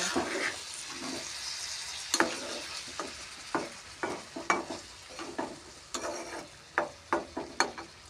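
Fritters fry and curry simmers side by side in a pan, the oil sizzling steadily. A spoon scrapes and stirs in repeated sharp clacks that come more often toward the end.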